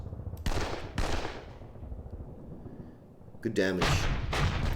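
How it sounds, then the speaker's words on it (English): Artillery strikes land in Panzer Campaigns Poland 39, a World War II wargame set at Piotrków Trybunalski, as a few heavy booming impacts separated by pauses. A brief spoken remark occurs near the end. "He's calling in artillery strikes."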